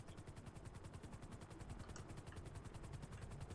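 A helicopter in an online car video game, a dense, steady rotor chop with fast rhythmic pulsing, loud and continuous throughout without talk.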